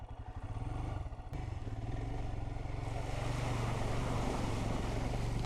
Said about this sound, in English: we got a little water crossing.